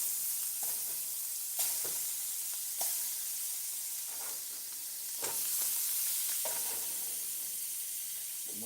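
Shrimp go into a hot pan while cooking a tomato pasta, giving a steady close sizzle and frying hiss with a few brief clinks and stirring bumps, no talking.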